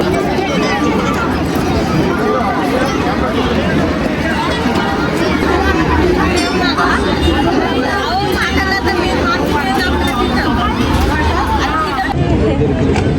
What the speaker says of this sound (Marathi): तुम देख सकते हैं बहुत गर्दी है